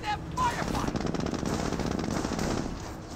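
A jeep-mounted .30 cal machine gun in Company of Heroes fires a rapid, steady burst of chattering shots, loud and continuous for about three seconds with no pauses.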